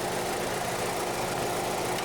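A 2024 Toyota Tacoma TRD with a 2.4-litre four-cylinder engine idles in a steady, even drone with a faint underlying vibration and no talking.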